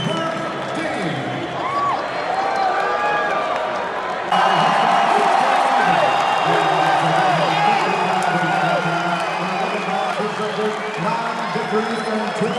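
A crowd at a UFC fight event in Katy, Texas fills the space with a steady roar and cheering, while someone talks over it.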